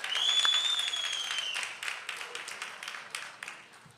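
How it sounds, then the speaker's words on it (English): Faculty members clapping and shouting at a 2023 health sciences university commencement ceremony, a loud burst of applause with a high whistle-like cry that fades over a few seconds. "Faculty, on 3, I want you to clap and shout."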